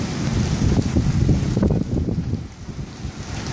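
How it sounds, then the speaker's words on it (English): Strong wind gusts and rain roar in a severe thunderstorm, loud and buffeting against the microphone, swelling and easing over a few seconds with no talk. "Guys, if this is a thunderstorm, if I ever saw one, man."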